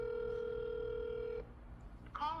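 A telephone call in progress: a steady tone sounds for over a second, then stops, and after a short pause a quick burst of dialing-like tones follows, all fairly faint with no talking.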